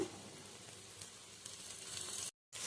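Capsicum dropped into a hot frying pan for fried chicken potato noodles, raising a steady close sizzle that runs for a couple of seconds before a brief cut, with no talking.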